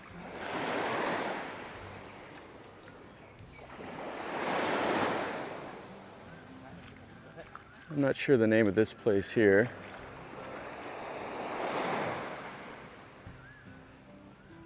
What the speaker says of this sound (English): Start my day walking on the beach with the waves crashing around.